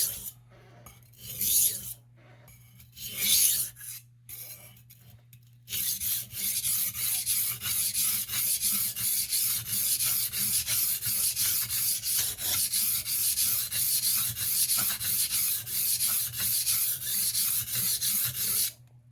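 A file cuts a bevel into an 8 inch carving knife: a few hesitant scrapes, then a long run of steady, rhythmic rasping strokes close by.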